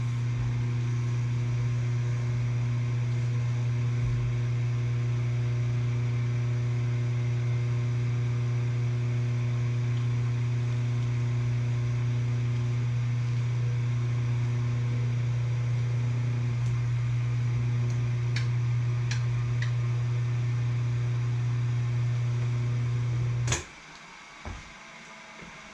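Old clutch-motor sewing machine running at a steady loud hum with a strong low drone for over twenty seconds, then cutting off abruptly, leaving a quiet room with a couple of faint knocks.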